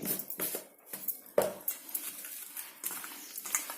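Mutton pieces being mixed by hand or spoon with chilli powder and salt in a metal bowl, heard as irregular close scrapes, clinks and wet thuds in uneven bursts.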